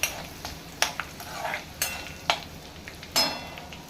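Ginger-garlic paste sautéing with cumin in a pan for a Marathi monsoon vegetable dish of val beans and bharangi leaves, with a soft steady sizzle broken by several sharp spoon scrapes and clinks against the pan.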